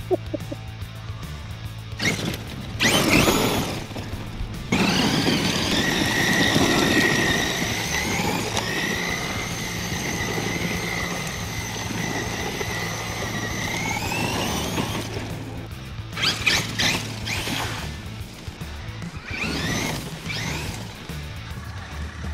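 A Traxxas E-REVO 2.0 6s electric RC truck runs at full throttle in a muddy outdoor bash, giving a sustained, fairly loud high whine that holds for several seconds, with bursts of crunching impact noise before and after.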